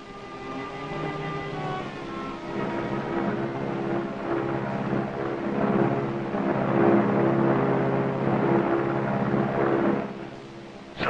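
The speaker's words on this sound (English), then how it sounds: "Sounds like the plane." A propeller airplane drones overhead through a wartime setting, a steady low hum with faint tonal lines that swells gradually toward the end, heard alone without talk.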